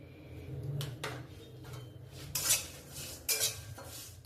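A spoon stirs and scrapes through bhuna chicken with dried coconut in a metal pan, giving several clattering metallic knocks and scrapes at an uneven pace, close and moderately loud, with no talking.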